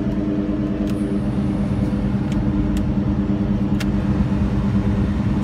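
A 1996–2004 Ford SVT Cobra engine idles steadily while warming up, a constant low rumble with an even droning hum, close and unchanging throughout with no voices.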